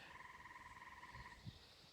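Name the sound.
tree frog calling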